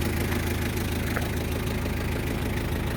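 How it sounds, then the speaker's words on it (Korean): Hyundai Porter truck engine idling roughly, a close, steady low rumble with a faint uneven knock, loud and continuous over a few seconds with no talking. "엔진 소리가 좋지 않죠"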